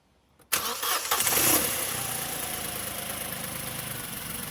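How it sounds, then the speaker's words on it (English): A car engine cranks and catches after an air-conditioning repair, then settles into a steady idle, close and fairly loud with a rough, humming drone and no talking. "Let's turn the engine on and make sure that the accessory belt's okay."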